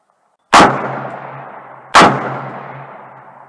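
Two loud, close rifle shots from test-firing 63gr SMP bullets handloaded with H335 powder, about a second and a half apart, each a sharp crack trailing into a long ringing decay, with no talk.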